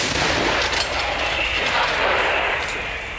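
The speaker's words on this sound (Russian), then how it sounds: "Пушка." An artillery gun fires a heavy boom that rolls out into a long, rumbling roar that slowly fades, loud and outdoors, with no voices.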